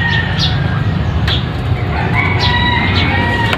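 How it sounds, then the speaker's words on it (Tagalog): A backyard rooster crows near a flooded area beside brooding hens, its calls loud and close over a steady rush of background noise, with brief clucks mixed in. "Nandiyan yung barako niya, oh."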